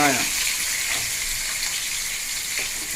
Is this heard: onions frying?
yes